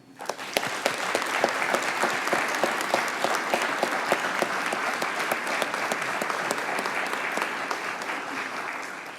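An audience at a Maine awards ceremony applauds steadily to welcome two honorees, a full, sustained clapping that swells quickly and holds evenly for several seconds.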